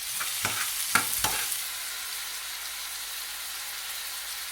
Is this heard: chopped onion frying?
yes